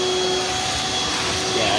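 A Kohler engine on a custom racing lawnmower runs steadily in a garage, a loud, continuous roar with a faint whine on top that holds without letup.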